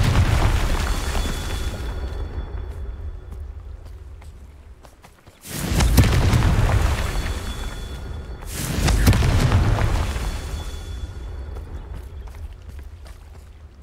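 Two heavy Confringo blasting-spell explosions in Hogwarts Legacy, each a loud broadband boom with a rumbling tail, arriving a few seconds apart over a steady low game ambience.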